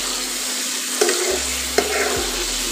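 Ash gourd being stirred in a hot pan, with light sizzling throughout and a couple of brief scraping clinks from the spoon against the pan, close and moderately quiet.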